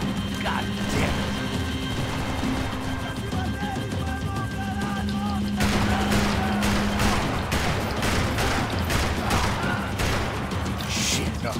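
Gunfire in the video game Max Payne 3, loud and continuous, with sharp bursts and crashes thickening in the second half over a steady game score, and talk mixed in.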